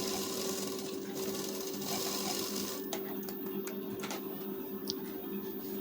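Steady, continuous whirring and rapid ticking of a sewing machine stitching a lined blouse, close and loud, with the needle's clatter shifting slightly partway through and no speech.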